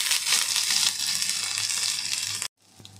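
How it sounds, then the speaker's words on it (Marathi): Curry leaves with crushed ginger and garlic sauté in hot oil, making a loud, dense, close sizzle that runs steadily, then cuts off abruptly near the end, leaving a faint hiss. "कढीपत्ता, आलं लसूण कुटून घेतलेलं आहे आणि आपण चांगलं परतवूया।"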